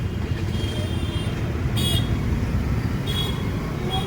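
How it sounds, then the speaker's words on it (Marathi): A traffic jam at a city signal: a steady low rumble of idling and creeping vehicles, with a couple of short horn toots cutting through in the distance. "फुल जाम ट्रॅफिक आहे फुल"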